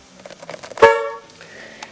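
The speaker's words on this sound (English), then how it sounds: "Horn." A single short honk from the horn of a 1993 Oldsmobile Cutlass, loud and close, ringing briefly over quiet background clatter.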